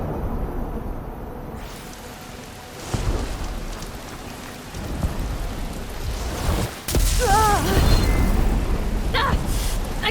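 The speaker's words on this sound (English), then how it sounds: "Storm's not gonna let up." Steady rain pours during a storm in the game Horizon Forbidden West, with low rolls of thunder rumbling underneath and a brighter crack of thunder near the end.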